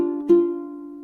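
Two ukulele strings plucked together, then another short pluck a moment later, a ringing note that sustains and slowly fades, from the One Piece opening song; close, with no voices.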